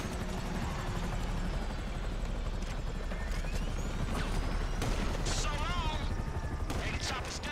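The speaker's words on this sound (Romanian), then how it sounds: "vin elicopterele după noi." Helicopters close in during a GTA V mission, a continuous loud rotor roar under game gunfire, crashes and a voice speaking.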